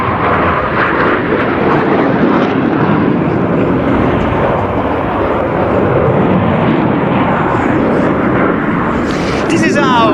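An M-346 jet trainer roars through a vertical imperial climb at a NATO Days air show, a loud, continuous broadband engine rush filling the whole stretch, with crowd and commentary mixed underneath.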